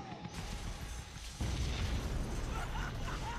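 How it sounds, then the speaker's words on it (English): An explosion in the Deadpool video game erupts in a dense, roaring burst that swells partway through and rumbles on loudly with debris-like noise. "Epic explosion is epic."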